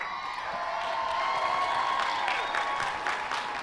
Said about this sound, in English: You deserve a round of applause, yeah.